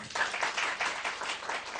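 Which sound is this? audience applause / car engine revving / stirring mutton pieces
audience applause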